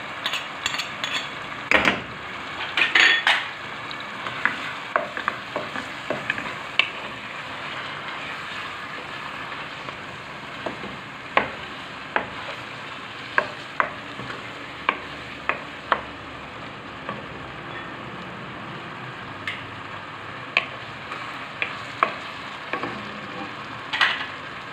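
Garlic frying in a pan with ginger and chicken spices for chicken balls, stirred with a soft continuous sizzle broken by sharp utensil scrapes and clicks at a fairly steady rhythm.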